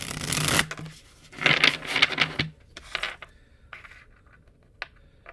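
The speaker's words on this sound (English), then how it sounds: "That's what I'm getting just from that shuffling that didn't work very well." A Muse Tarot deck is shuffled in a few close, crisp riffling bursts of cards, each followed by quieter taps and rustles as the deck fails to come together, with no talking.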